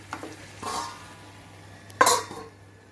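Chicken curry for Guntur-style cooking is stirred in a pan on a medium flame, with two distinct scraping stirs and a clink of the spoon against the pot over faint background hum.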